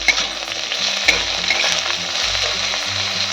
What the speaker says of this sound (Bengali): সব কিছু ভালো করে আমি কষিয়ে নেব, হালকা ভাজা করে নেব।